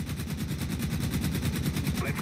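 An aircraft machine gun fires in a flight combat video game, aboard a Martin Baker MB 5: a loud, continuous rapid-fire burst with an even, rattling rhythm and no pauses.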